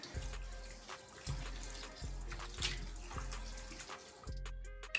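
Tap water runs steadily while a lace wig is rinsed under the stream, making a faint continuous splash and gush with periodic low thumps from handling, and no voices.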